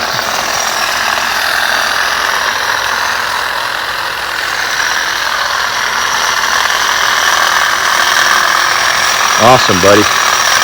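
A WORX battery-powered hedge clipper runs with a steady buzzing drone throughout, close and fairly loud, while people talk briefly near the end.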